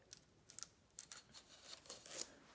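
Scissors or a blade cutting into the packaging of a Book of Shadows grimoire box, a few quiet, close snipping and scratching sounds in short irregular bursts.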